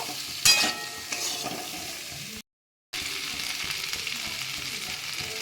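Turmeric and Kashmiri red chili powder stirred in a hot pan for a sweet-sour-spicy amla pickle, giving steady scraping and soft sizzling close by, with a sharp clatter near the start and a brief silent gap midway.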